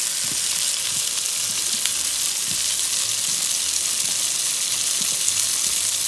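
Sausage and eggs frying on a Coleman camp stove outdoors, a loud, steady close-up sizzle with crackling pops throughout and no talking.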